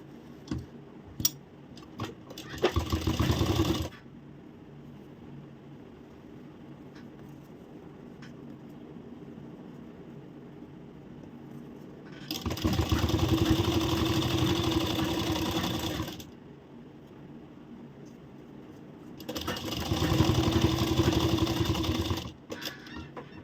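A sewing machine stitches the finishing seam along the top of a blouse collar in three separate bursts of rapid, steady whirring, with quiet pauses between them.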